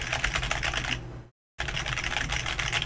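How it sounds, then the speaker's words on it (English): Rapid typing on a quiet, spill-resistant computer keyboard, a steady stream of soft, close keystrokes broken by a short silent gap partway through. "let me show you how quiet this keyboard is."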